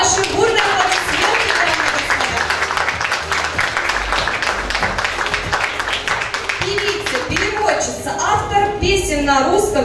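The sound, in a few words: audience applause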